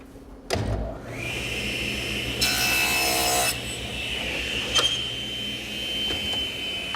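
A saw cutting wood for a compound miter and bevel cut, starting with a sharp knock, then a steady whirring run with a brief louder grinding stretch partway through, close and alone with no talk.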